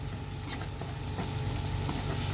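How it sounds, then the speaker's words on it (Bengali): Spices with cumin sauté in a pan, a dense, steady close sizzle with a few light stirring taps over a low background hum, brief and without talk. "হালকা হালকা কষাবো"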